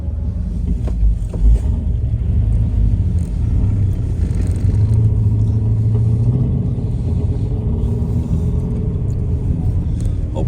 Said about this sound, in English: driving up through the woods